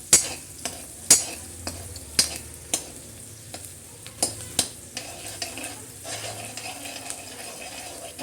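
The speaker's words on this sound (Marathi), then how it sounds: "कांदा चांगला लाल होऊ द्या कांदा" Onions frying in a pan for poha, a steady sizzle broken by sharp, regular scrapes and clinks of a stirring spoon against the pan, close and fairly loud with no talk.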